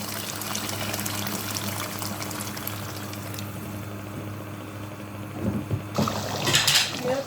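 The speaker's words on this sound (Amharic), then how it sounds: "የፈላ ውሃ ነው።" Boiling water is poured into a pot while cooking Ethiopian beef key wot, a faint steady watery hiss that swells into a louder splashing pour near the end.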